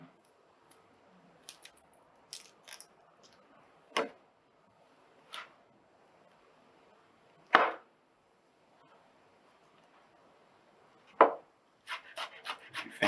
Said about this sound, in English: peel those, get those chopped.